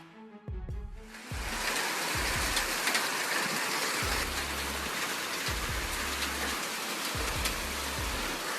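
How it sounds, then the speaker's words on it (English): Hail falls over Brisbane as a dense, loud, continuous hiss and patter that starts after a quiet first second, with low rumbling thumps recurring underneath. "hail fell like icy pearls over Brisbane"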